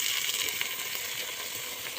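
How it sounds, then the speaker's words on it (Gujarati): Onions and tomatoes sauté in a pan for a shev tameta curry, giving a dense, hissing sizzle that runs steadily throughout with faint stirring underneath and no voices. "હવે ડુંગળી સડી ગઈ છે તો તેમાં ટમેટા નાખી દઈએ"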